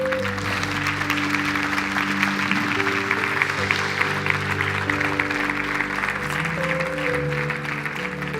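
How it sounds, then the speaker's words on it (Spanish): Applause from a church congregation at a worship service, a steady dense patter held for about eight seconds over sustained music-like tones, with no talk. "Dale un aplauso fuerte."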